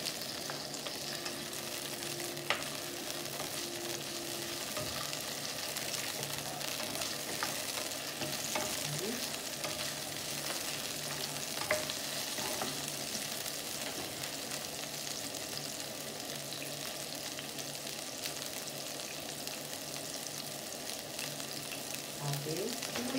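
Tomatoes and onions for pinakbet are stirred in a frying pan, giving a steady sizzle with scraping spoon strokes throughout, and a voice talks faintly underneath.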